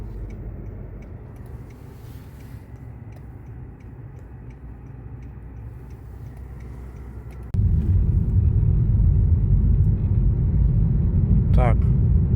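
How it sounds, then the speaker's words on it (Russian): A car out on a test drive after a clutch replacement with new discs: a steady low engine and road rumble from inside the cabin that steps up noticeably louder about halfway through and stays there. "испытываем тачку после замены сцепления на новых дисках. Едем."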